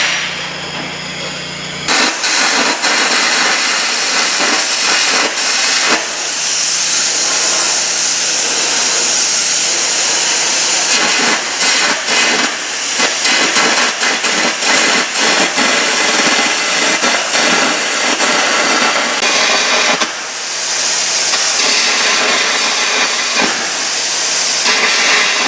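Welding repair on the center section of a Ponsse Fox forwarder, a loud continuous crackling hiss that cuts out briefly a few times before resuming, with no talking.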